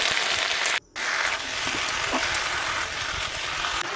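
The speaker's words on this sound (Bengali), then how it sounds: "কেটে রাখা পুঁইশাকগুলোকে দিয়ে দেব এভাবে কিছুক্ষণ নাড়াচাড়া করে নেব" Chopped Malabar spinach stirred while frying in a pan with vegetables, a close, loud, steady sizzle with scraping stir sounds and one brief gap.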